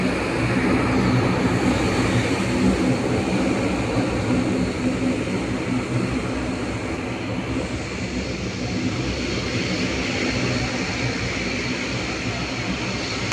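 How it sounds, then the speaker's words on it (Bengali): A fixed-wing airplane taxis and turns slowly on the runway at Barisal airport in Bangladesh, giving a steady, loud engine roar and broadband whine that holds throughout with no talk. "বিমানটি ডান দিকে ঘুরছে এবং সামনের দিকে ধীরে ধীরে এগিয়ে যাচ্ছে।"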